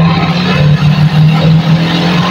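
Suzuki Shogun 110 motorcycle engine, which has an ignition and charging fault, held at a steady loud rev close by, a continuous buzzing drone with no talking.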